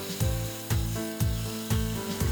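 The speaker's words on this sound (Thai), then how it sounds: "เมื่อกระทะเริ่มร้อนแล้วเราไก่ลงได้เลย ก็ใช้ไฟอ่อนๆได้นะครับ" Chicken pieces sizzle in a hot pan over low heat, a steady frying hiss with rhythmic knocks or scrapes repeating about every half second, close and alone.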